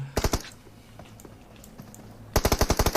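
Rapid automatic gunfire in the mobile shooter PUBG Mobile during a team deathmatch final, sharp bursts at the start and a longer rattling volley at the end, loud and close with quiet game ambience between.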